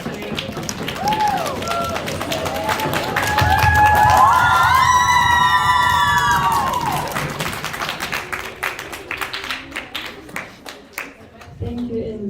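An audience at a senior-league school debate final claps and cheers after a speech, the applause and shouts swelling to a peak midway and then thinning into scattered claps, with voices calling out over it.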